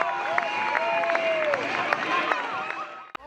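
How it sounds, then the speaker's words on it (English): A crowd claps and cheers after an Oregon Ducks women's college softball win against Michigan State, with a steady wash of applause, scattered sharp claps and murmured voices. "All smiles and claps and celebration here for the Oregon Ducks, clinching at least a share."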